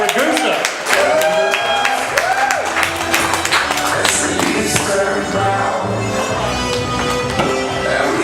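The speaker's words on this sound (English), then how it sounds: "Start clapping now. Give it some energy." Comedy club audience claps and cheers for a stand-up comedian, a dense steady round of applause with scattered whoops, lasting several seconds at close range.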